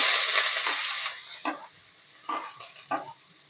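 Onions and green chillies hitting hot oil for a tempering, a loud bright sizzle at first that fades quickly, followed by a few short stirring scrapes.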